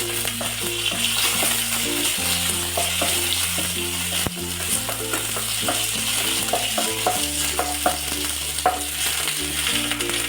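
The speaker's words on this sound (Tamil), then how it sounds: "நல்லா வதங்கட்டும்." Garlic cloves and curry leaves sauté in a pan for herbal rasam, with a steady close sizzle and stirring scrapes. A sustained tonal hum runs underneath and shifts pitch in steps.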